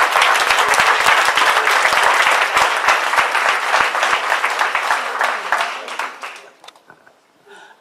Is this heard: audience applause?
yes